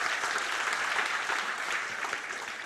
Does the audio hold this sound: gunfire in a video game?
no